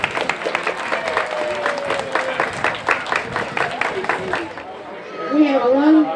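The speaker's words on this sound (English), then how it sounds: "Let's give them all collectively a round of applause." An audience at a city birthday celebration in Diamond Bar claps for honored recipients, a steady patter of many hands for about five seconds with murmuring voices mixed in, then fading into scattered chatter.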